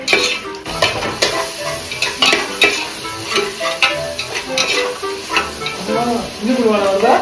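Onions fry for ghee rice under a steady sizzle while a spoon stirs and scrapes the pan in irregular strokes, with voices talking over the cooking.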